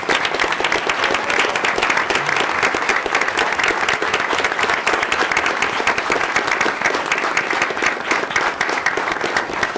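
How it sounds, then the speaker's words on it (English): A room of people at a school board meeting, with athletes and parents present, applauds with sustained, loud, dense clapping for nearly ten seconds. "Please stand for a huge round of applause."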